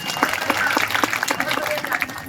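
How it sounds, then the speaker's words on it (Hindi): Applause from the audience at a kavi sammelan poetry gathering during the Jajwalya Dev Lok Mahotsav fair in Janjgir, a dense, steady patter of many hands clapping close by with voices mixed in, continuing throughout. "बजाइए भाई, एक बार जरा जोरदार तालियां बजाइए।"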